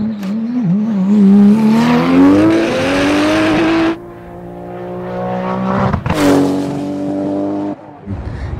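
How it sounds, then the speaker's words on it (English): A Porsche race car blasts up a hill climb, its engine screaming loud and close as it climbs through the revs, with a gear change and a fresh surge of high-pitched howl. "Zum Beispiel Jeff Swart haben die diesen geilen Porsche gebaut, wo der schön dort hochgeballert ist."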